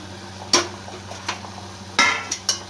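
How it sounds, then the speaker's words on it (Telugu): Chopped ivy gourd pieces tipped into a pan of softened tomato curry, a few sharp clinks and taps of a spoon against the pan over a low steady hum, no talking. "ఇప్పుడు ముందుగా తరిగి పెట్టుకున్న దొండకాయ ముక్కలని యాడ్ చేసుకోవాలి"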